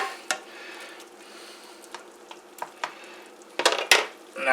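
Shrimp cooking in a pan are tossed and stirred, giving scraping clatters and metallic knocks over a faint sizzle, close up, with a louder jostle of the pan near the end.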